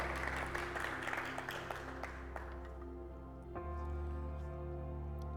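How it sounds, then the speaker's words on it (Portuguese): A church congregation applauds during a sermon, scattered clapping at low level over sustained organ or keyboard chords; the clapping fades after a few seconds while the music carries on alone. "Você pode aplaudir esse Senhor"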